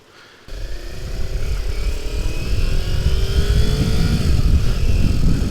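A 2018 Kawasaki Ninja 400 motorcycle engine kicks in abruptly and revs up, its pitch rising steadily under throttle, loud and close with heavy wind rumble.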